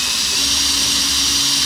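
A power drill whines at a steady high pitch while boring a hole, a loud continuous sound up close with no talking.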